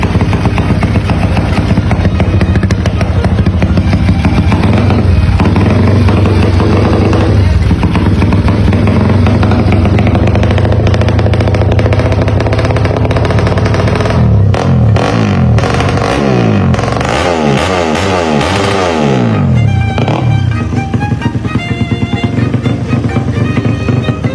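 Motorcycle engine idling and revving close by after a fresh oil change, a steady loud mechanical run with rattling clatter and rising and falling throttle blips in the latter half, no talk.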